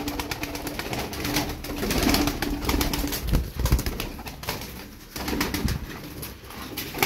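Young milk-white Turkish tumbler pigeons coo softly amid rustling and occasional wing flaps, a fairly close, low-level flock sound with no voices.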